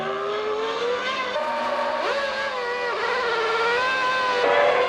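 Formula 1 race cars at the 1998 Argentine Grand Prix, high-pitched engines screaming and shifting through gears, rising and falling in pitch as cars pass, loud and continuous with no talking.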